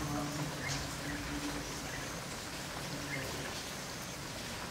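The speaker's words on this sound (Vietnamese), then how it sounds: "Mưa đang nặng nề." Heavy rain falls outside a window in Hanoi beside a fruiting rose apple tree, a dense, steady hiss of drops with faint patters and occasional birdlike chirps in the background.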